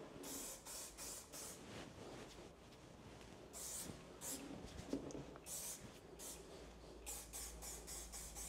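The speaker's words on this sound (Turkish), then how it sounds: "sprey, gazlı sprey ile şekillendireceğim" Aerosol hair spray hisses in repeated short bursts, some rhythmic, others longer, at close range in a hair salon, against a low room background with no talk.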